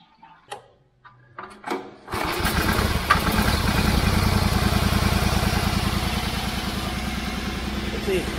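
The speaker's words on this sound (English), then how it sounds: "we are now ready for the first startup" Hinowa minidumper engine: a few short knocks and cranking bursts, then the small engine catches at about two seconds and runs loud and steady with a fast, even chugging rhythm to the end.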